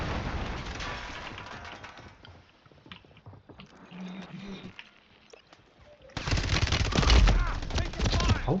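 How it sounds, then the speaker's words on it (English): Gunfire in the video game Warzone 3 comes as rapid bursts of shots, sparse early and then a loud dense volley near the end, with players talking over it. "How can I kill him, man? I shot him first."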